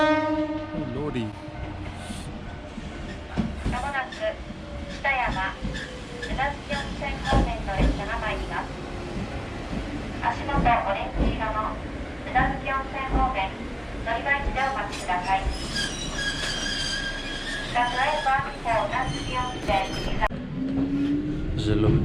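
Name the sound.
Kurobe Gorge Railway small train riding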